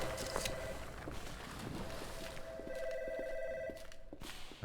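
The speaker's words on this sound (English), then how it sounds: "for somewhere to be abandoned but a phone ringing, it's quite unusual." An electronic telephone bell rings steadily in an abandoned area of the video game ADACA Zone Patrol, its repeating trill sitting over ambient game noise and faint footsteps, with no talking.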